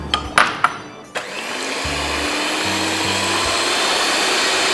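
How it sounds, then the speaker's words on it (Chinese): A handheld electric mixer whips whole eggs with white sugar for a sponge cake, starting with a few knocks and clicks, then settling into a steady, loud motor whir that runs to the end. "然后我们加白砂糖打发"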